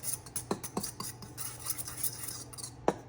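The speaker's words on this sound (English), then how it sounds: "You're gonna whisk it all together." A whisk scrapes and taps quietly against a bowl, mixing sugar, salt, lemon juice and zest, with a few sharper clinks over a soft, steady scraping close by.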